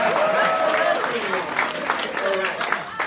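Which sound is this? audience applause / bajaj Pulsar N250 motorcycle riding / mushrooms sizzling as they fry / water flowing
audience applause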